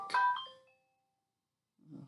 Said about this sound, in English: That's my phone there.